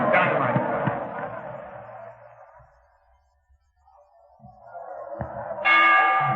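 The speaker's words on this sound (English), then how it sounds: "You see him toss Morris out of his corner at the bell ring?" A boxing match bell rings out with a bright metallic tone, fading away to near silence before crowd noise and knocks swell back up and a clanging ring returns, loud over the arena clamor.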